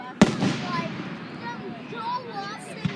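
Fireworks go off outdoors, one sharp close bang at the start and another near the end, with crackling and whistling trails in between while people's voices carry over the scene.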